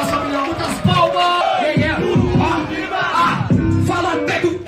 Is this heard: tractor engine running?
no